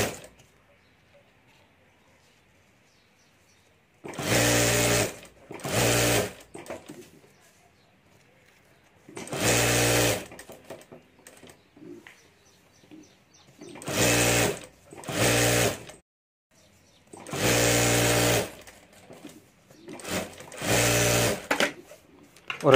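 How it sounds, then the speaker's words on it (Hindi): Sewing machine stitching around the border of a homemade hand bag, five loud close bursts of rapid whirring stitching separated by quiet pauses. "यहाँ ऊपर हमें चारों तरफ सिलाई कर देनी है"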